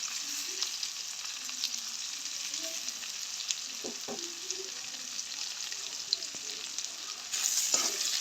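Crushed ginger and garlic frying with chillies for a chicken curry: a steady close hiss of frying with occasional soft clinks and scrapes of stirring, a slight surge in sizzle near the end.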